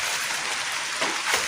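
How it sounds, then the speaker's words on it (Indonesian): Light drizzle falls outdoors near rice fields during the rainy season, a steady soft hiss of rain with a few slightly louder patter bursts. "Ini kondisi gerimis"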